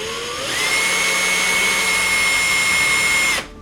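An electric drill boring a hole in the middle of a wizard miniature, winding up to a steady high whine that holds for about three seconds and then cuts off, loud and close.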